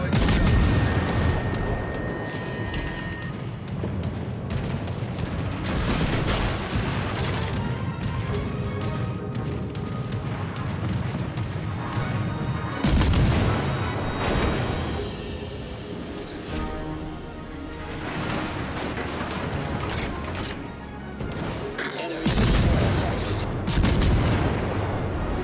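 Warship guns in World of Warships: Legends fire in repeated heavy booms, each a loud blast trailing into rumbling decay, spaced every few seconds across a long naval battle with a dense roar beneath.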